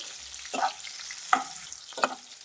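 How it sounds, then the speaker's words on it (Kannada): Capsicum frying in hot oil over a high flame, with a steady sizzle and three distinct stirring scrapes about a second apart, close and clear with no talk. "ಇದೊಂದು ಎರಡು ನಿಮಿಷ ಎಣ್ಣೆಯಲ್ಲಿ ಫ್ರೈ ಮಾಡಬೇಕಾಗುತ್ತೆ ಕ್ಯಾಪ್ಸಿಕಮ್ನ ಹೈ ಫ್ಲೇಮಲ್ಲಿ ಉರಿ ಇಟ್ಕೊಂಡು ಫ್ರೈ ಮಾಡಿ"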